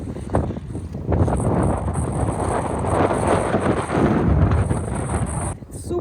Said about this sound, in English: It's a bit windy. Windy, but nice.